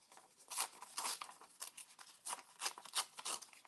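Paper is torn by hand into strips for a stamped craft card: a series of short, quiet ripping tears in irregular bursts, close up, with no talking.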